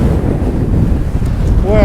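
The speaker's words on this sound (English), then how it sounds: "Wow, it is so windy." Strong wind on an exposed ridge roars and buffets the microphone continuously, a loud low rumble throughout with no pauses.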